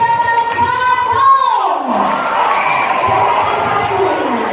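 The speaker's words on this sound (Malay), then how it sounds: "Saya nak dengar tepukan yang paling gemuruh daripada tingkatan 1." Students at a secondary school assembly in Malaysia cheer and shout loudly, a dense crowd roar with children's voices and clapping that swells and holds, partly under an announcer's amplified voice at the start.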